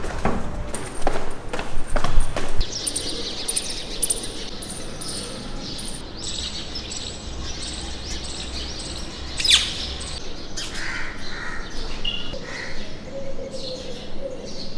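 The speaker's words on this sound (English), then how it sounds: "The birds are all chiming all around." On a morning in India, several birds chirp and tweet all around, with scattered calls that come in bursts near and at a distance over soft outdoor ambience, and no one talks.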